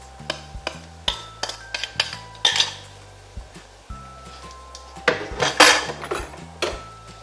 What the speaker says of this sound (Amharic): ከዛ በእንቁላል መምቻ፣ ይሄም ከሌለ ግን በማንኪያ መምታት ይቻላል።